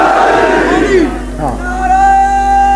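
A crowd at a majlis shouts slogans in unison, loud massed voices rising and falling in a couple of swelling chant phrases, close and reverberant, filling the whole stretch.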